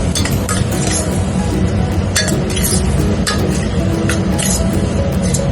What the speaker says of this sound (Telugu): ఇప్పుడు మొత్తం కలిపేసి